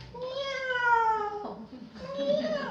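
A person imitates a cat meowing in a series of drawn-out, wavering mewing calls, close and clear, with a pause between two main meows.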